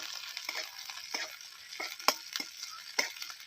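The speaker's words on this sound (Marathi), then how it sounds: "त्याच्यावरतीच आपली मिरची मस्त अशी भाजते बघू शकता तुम्ही" Green chilies roast in already-hot oil with the flame turned off, cooked outdoors on a farm for a fasting-day chivda. A continuous close hiss carries scattered sharp crackles and pops, with no voices.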